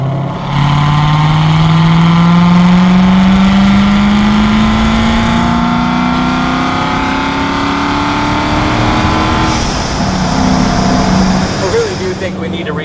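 A Hennessey HPE1000 supercharged C7 Corvette Z06 accelerates hard on a damp track, its loud engine note climbing steadily through one long pull before a brief shift and renewed roar, with a lumpy old-school muscle car lope and voices talking over it.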